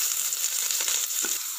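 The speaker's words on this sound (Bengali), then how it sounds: "এবারে দিয়ে দেব পেঁয়াজ কুচি।" Chopped onion frying in hot oil with whole cumin and a bay leaf, a steady, bright, close sizzle throughout with a faint scrape or two mid-way.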